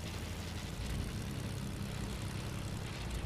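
An in-game airplane engine drones steadily and loudly in a video game, a dense, unbroken roar with a low propeller-like rumble that holds constant throughout.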